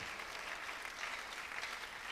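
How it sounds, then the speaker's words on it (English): A hall audience at a school sesquicentennial panel event applauds the chairman: dense, even clapping that holds at a constant level throughout, with no break and no voices above it. "A thunderous applause for"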